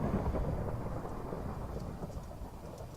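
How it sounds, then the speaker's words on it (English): Thunder and lightning in Minecraft: a low, continuous rumble of thunder over faint rain fills the short stretch, no voices. "Alright, thunder and lightning."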